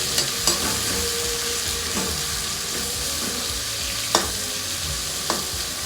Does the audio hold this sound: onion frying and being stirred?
yes